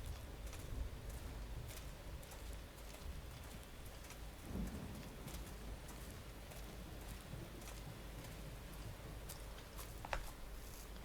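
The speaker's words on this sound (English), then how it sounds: "The rain's starting to let up." Steady rain pours down in the video game Xenoblade Chronicles X, a soft continuous hiss with scattered drops and a low rumble of thunder, faint and even throughout.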